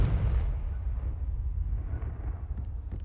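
Confringo spell explosion in the Hogwarts Legacy video game, a deep loud blast with heavy low rumble that decays slowly over a few seconds, with no talk over it.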